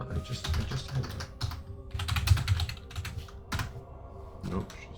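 Computer keyboard typing during a World of Warcraft Classic play session, with bursts of quick clicking keystrokes in irregular runs separated by short pauses, close and fairly clear, with a voice talking faintly underneath.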